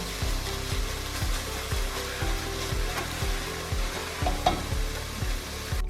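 Onions browning in a pan for borscht, with carrots resting underneath, give a steady close sizzle broken by repeated scraping stirs at a roughly even rhythm, with no voices.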